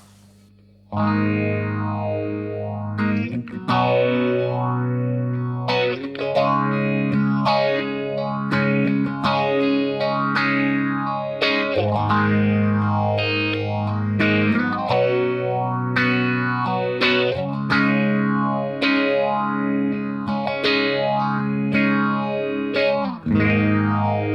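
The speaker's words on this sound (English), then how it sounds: "Bank 2. It's called Good Morning. It is a phaser." Electric guitar chords run through a Strymon Mobius pedal on its Good Morning phaser preset, with slightly distorted strummed chords swept by a slow, swirling, repeating phase motion, played steadily and alone for the full stretch.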